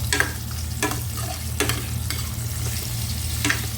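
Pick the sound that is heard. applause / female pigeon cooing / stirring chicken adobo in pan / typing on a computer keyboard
stirring chicken adobo in pan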